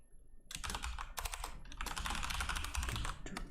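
Rapid bursts of typing on a computer keyboard during game development work, close and crisp, with short pauses between flurries of keystrokes and no talking.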